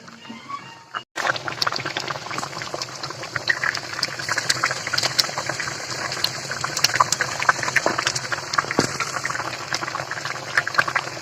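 Mustard gravy of a hilsa fish curry simmers and reduces in a pot. After a short quiet start, close, continuous bubbling and popping carries on evenly with no talking.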